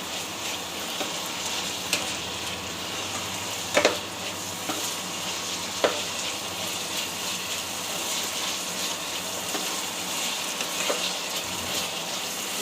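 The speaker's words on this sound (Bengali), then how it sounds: "রান্না আলু ভাজি করতে দিয়েছি" Potatoes frying in a home kitchen pan, giving a steady, close sizzle with soft crackle throughout and a few sharp clinks of utensils against the pan.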